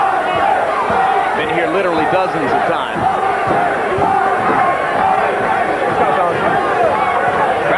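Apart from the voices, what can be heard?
boxing crowd cheering as the 12th round begins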